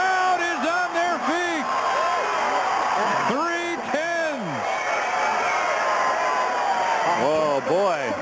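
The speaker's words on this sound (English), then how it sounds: "The crowd is on their feet." A basketball crowd at a 3-on-3 slam dunk contest roars and cheers after a reverse hanging dunk, loud and sustained, with whoops throughout and an excited commentator talking over it.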